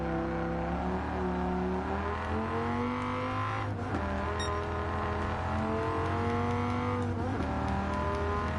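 Dodge Challenger V6 engine in Gran Turismo 7 revs steadily with clear rising and falling tones as it accelerates through gear changes, a sustained loud exhaust drone throughout without voices.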